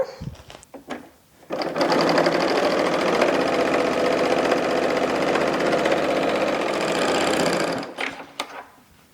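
A serger overlock machine stitches knit sweater fabric, joining a waistband into a tube in one loud, continuous rapid whirring burst of several seconds, with quieter handling before and after.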